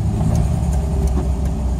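A Volkswagen Gol's engine hums steadily while driving, a mid-pitched car drone heard up close inside the vehicle with slight rises and no talking.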